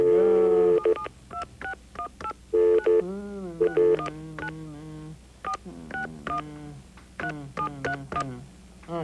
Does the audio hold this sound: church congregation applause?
no